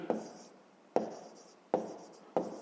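Handwriting numbers with a pen or pencil on paper: four separate short scratchy strokes spaced about a second apart, close and fairly soft.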